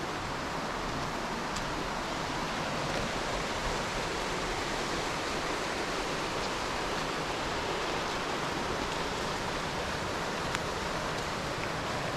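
Kocaçay waterfall near Antalya, Turkey, seen across from a nature trail, gives a continuous broadband rushing roar of falling water, steady and unbroken with no voices.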